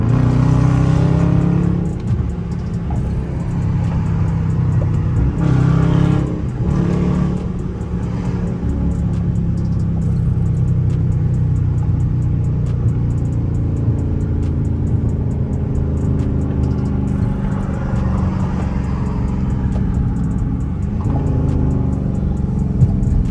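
A Dodge Charger RT fitted with new paddle shifters cruises along a Texas road at a steady pace, its engine drone and road rumble continuous and close with small swells in revs, no talking.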